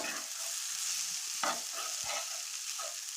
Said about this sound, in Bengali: লবণটা কিছুক্ষণ নাড়াচাড়া করে নিচ্ছি